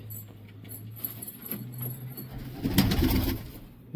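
Pigeons kept by a hobbyist in America give low, droning coos close by, joined near the end by a brief burst of rustling and fluttering.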